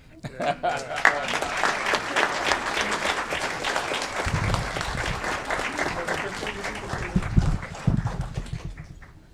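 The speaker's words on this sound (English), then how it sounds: "Another round of applause for the Illinois Hispanic Chamber of Commerce." A room at a city council meeting breaks into sustained applause, with dense clapping from many hands lasting several seconds, mixed with murmuring voices and a few louder shuffles near the end.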